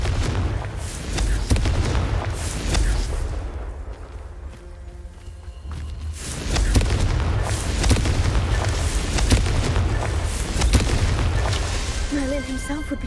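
Repeated Confringo explosion spells in Hogwarts Legacy: a run of heavy booming blasts and crackling impacts over a thick low rumble, with a brief lull before the bursts return, loud and close.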